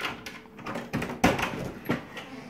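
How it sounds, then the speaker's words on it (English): A house's back door is opened nearby, with a rattle and a sharp clunk of the latch followed by softer knocks and scraping, all brief and close. "we're going to open up my back door here."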